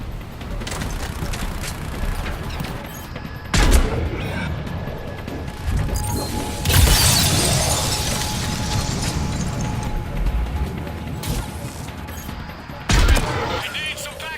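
Gunfire cracks through a Mass Effect 3 firefight, with several loud shots and impacts scattered among a constant din of combat, under radio-style speech.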